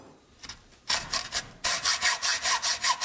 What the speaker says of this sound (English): When using a hacksaw, make full-length strokes like this.